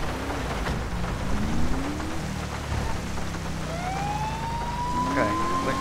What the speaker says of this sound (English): Alright, turn the siren on.